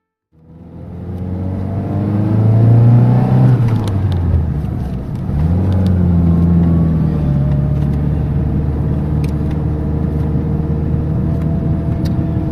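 A Seat Ronda Crono, an 80s car, drives off with its engine revving up, dropping briefly on a gear change, then pulling hard again at a loud, steady drone, close and alone with no talk.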